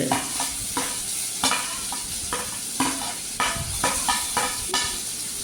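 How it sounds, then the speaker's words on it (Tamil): Onion, ginger and capsicum sauté in hot oil for a bread veg omelette, a steady close sizzle broken by repeated crisp scraping strokes of a spatula stirring the pan, with no voices. "எல்லாத்தையும் அதில் போட்டு வதக்கிக்கலாங்க. நல்லா வதக்கிக்கலாங்க."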